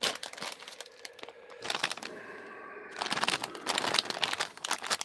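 Someone tears open a plastic packet of Chinese crab-flavoured snack, with loud crinkling and ripping bursts near the microphone, a brief steadier rip midway, then more rustling of the wrapper.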